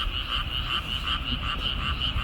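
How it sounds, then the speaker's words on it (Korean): Frogs croak steadily in a chorus from a rice paddy near a fishing spot, a dense and loud pulsing rhythm over a background of wind rumble. "뒤에 바로 논이 있어가지고 개구리 개구리 울음소리를"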